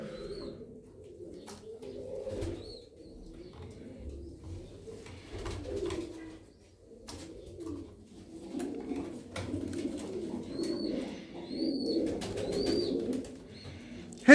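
Pigeons taken off their eggs coo repeatedly nearby in low, rolling phrases, with soft rustling and a few faint higher calls between them.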